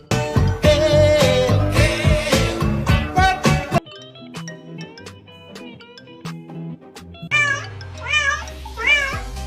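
A cat meows and yowls indoors at night, its drawn-out, wavering cries carrying over loud music, which drops out partway through. The cries stand out clearly toward the end.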